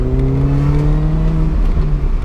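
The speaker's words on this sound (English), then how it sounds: "Exhaust sounds good." A race car engine revs loudly and steadily up close, its exhaust note holding a rising harmonic whine before easing slightly near the end.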